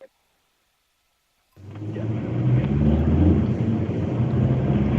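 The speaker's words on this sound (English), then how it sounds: "whose big truck is that?" A large truck rumbles past after a short silence, its deep engine drone rising quickly and holding loud and close with a steady roar until the end.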